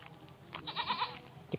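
Pet goats bleat in a short, wavering call, faint and a little distant, with a soft thump near the end and no talking.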